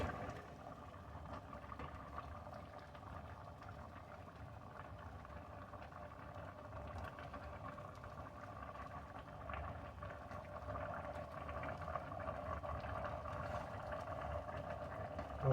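Pepper jelly at a rolling boil in a pot: a steady, low, bubbling roar that stays even and fairly faint throughout, with no voices.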